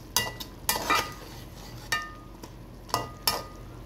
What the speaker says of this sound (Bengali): মাংসটা ভেজে নিচ্ছি।